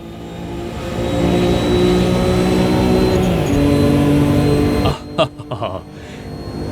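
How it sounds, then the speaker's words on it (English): A high-revving 550 horsepower Lamborghini V12 screams through rising gears in Automobilista 2, then cuts off abruptly, followed by a few sharp clunks and a voice. "It sounds amazing with its 550 brake horsepower V12."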